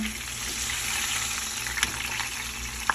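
Pork ribs sizzle steadily on a small griddle after being flipped, a continuous close hiss of frying with a couple of faint clicks.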